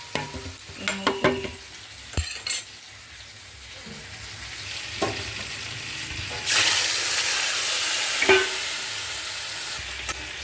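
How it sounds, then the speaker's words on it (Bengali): Spiced fish-curry paste with turmeric, salt and a pinch of sugar being fried and stirred in a pan, with scraping stirs early on, then a steady loud sizzle and a few sharp clinks, all without talk. "মশলাটা এবারে কষতে থাকুক।"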